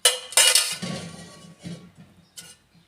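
Metal kitchenware clanks and clinks as a frying pan is handled and set down on the stove to heat coconut oil, a few sharp knocks close by, then softer scrapes and taps trailing off.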